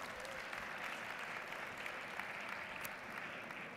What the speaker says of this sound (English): I have Renee and I have Jeff, a nice round of applause for our two helpers.